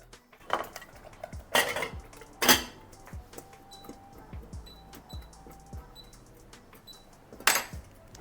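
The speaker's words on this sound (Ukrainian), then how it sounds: "Ладно, буду мішати дерев'яною." A wooden spatula stirs thick cornmeal banosh in a pot, giving soft scrapes and a few sharper knocks against the pot amid quiet kitchen clatter, close and fairly faint.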